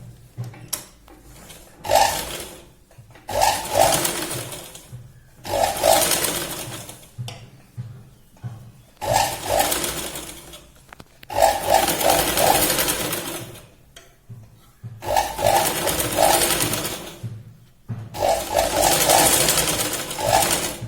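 A sewing machine stitching a katori blouse runs in about six bursts of rapid, whirring stitching separated by short pauses, close and fairly loud.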